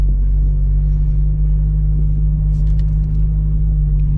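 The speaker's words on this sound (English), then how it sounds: "A little bit of bogging because I didn't give gas." A Subaru BRZ engine bogs in first gear with no throttle, a steady, heavy low rumble droning close and loud throughout, with no voices over it.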